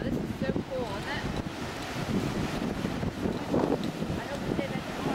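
Strong wind gusts of about 26 mph buffet the microphone in rough, continuous gusts, with a splashy rushing texture like water nearby and a voice faintly present underneath.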